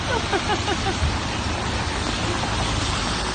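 Steady rain pours down at the Eiffel Tower in Paris, a dense, even hiss that fills the whole moment without pause, close and fairly loud.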